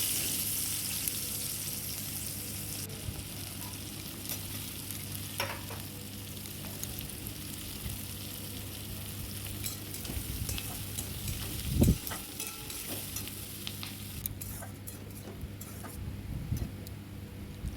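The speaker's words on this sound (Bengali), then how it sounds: "আমি একটু তেজপাতা ফোড়ন দিয়ে দিলাম, দিয়ে কুচানো পেঁয়াজগুলো এর মধ্যে দিয়ে দেবো" Chopped onions fry in hot oil with a bay leaf, a steady, even sizzle that runs throughout, with a single louder knock partway through and faint ticks.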